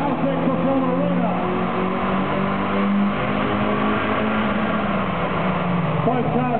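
Two Nissan S15 cars rev side by side on a dyno in a performance arena, loud sustained engine roar with rising pitch throughout, mixed with an announcer's voice.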